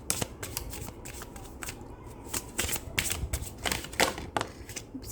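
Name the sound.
tarot cards being picked and handled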